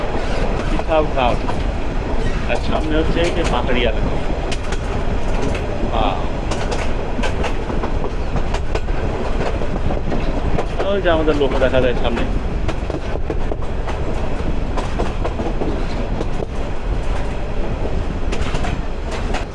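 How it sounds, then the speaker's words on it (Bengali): The Chattogram University shuttle train runs through hilly country, a steady loud rumble with rhythmic clickety-clack and occasional wheel squeal heard from on board, while someone talks over it. "ট্রেন টান দিচ্ছে"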